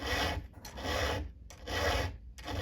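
A round file sharpening a chainsaw chain at a steep cutting angle, heard as loud, close rasping strokes in a steady rhythm of long pushes with short pauses between them, and no talking.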